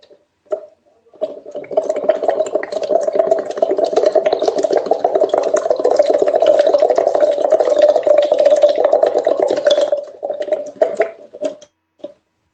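Steady bubbling gurgle of breath blown through a straw into a water bottle, one long continuous burst lasting around nine seconds, close and fairly loud, with a few short bubbly puffs at the start and end.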